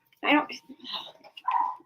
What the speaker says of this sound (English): Who is barking?